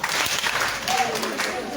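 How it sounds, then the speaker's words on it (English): A classroom or school audience applauding a student, a short burst of dense clapping heard up close with voices around it. "Clap for her."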